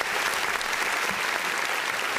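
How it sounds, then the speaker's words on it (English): A podcast studio audience claps in a steady, dense round of applause that holds loud and even for a couple of seconds. "applause"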